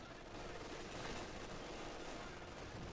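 Tank guns and small arms firing in the WWII strategy game Company of Heroes 2, a steady, distant-sounding barrage of muffled shots and rumbling blasts with no clear gaps, faint and continuous.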